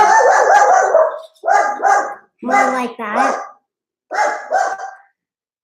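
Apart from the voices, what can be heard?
dog barking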